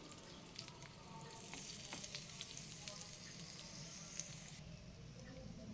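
Coconut paneer frying in a pan toward golden brown for a restaurant-style coconut paneer masala, giving a steady, close crackling sizzle that continues throughout with no voices.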